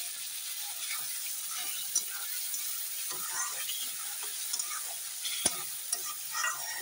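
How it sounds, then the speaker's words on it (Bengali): Spice paste cooked down with a little water in a pan makes a faint, even sizzle, broken by occasional light clicks from stirring. "এখন ভালো করে আমি একটু জল দিয়ে আবার মশলাটা করে কষিয়ে নেবো তেল ছাড়া পর্যন্ত।"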